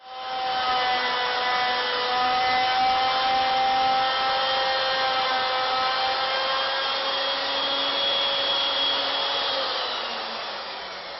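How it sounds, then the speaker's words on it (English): Router cutting a barley twist profile into wooden candlestick stock, a steady high whine with grinding, rasping texture holding for about ten seconds before tapering off. "each time I bring the router bit in, it'll always be at the same position"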